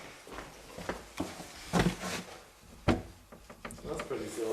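Old wooden door in a historic country house rattling in a few sharp knocks and bumps, with people talking nearby.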